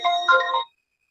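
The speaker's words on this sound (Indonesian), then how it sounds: "ini ada orang telepon" A phone rings with an incoming call, a short electronic ringtone melody lasting well under a second, fairly loud and alone, then cutting off to silence.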